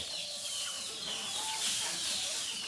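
Domestic village rooster and hen clucking in a backyard, a steady, close stream of fowl calls with no talk over it.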